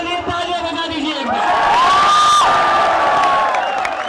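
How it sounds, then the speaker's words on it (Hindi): Young people at a celebration cheer and clap loudly after a minister's resignation, whoops and shouting rising into a sustained roar of crowd noise with voices mixed in throughout. "सारे लोग अपने लिए तालियां बजा दीजिए।"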